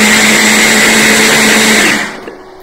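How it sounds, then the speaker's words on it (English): A kitchen blender whirs steadily as it purées a coconut curry gravy for a fish curry until smooth, loud and continuous for about two seconds before cutting off abruptly into quiet. "So I'm just going to give it one last little whiz."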